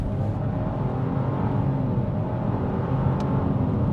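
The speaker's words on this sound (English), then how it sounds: "Open her up a little bit more on the gas." A 2025 Chevy Trailblazer LT under acceleration on the road, a steady, fairly loud engine and road drone heard from inside the cabin with no talking.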